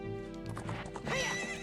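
Epona, the horse in the Nintendo 64 game The Legend of Zelda: Ocarina of Time, gives a loud, wavering whinny that rises and falls, with the clip-clop of her hooves running underneath throughout.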